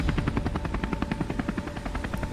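Helicopters approaching in a Hindi cartoon story, rapid rhythmic rotor chop pulsing steadily and fairly loud, with no voices over it.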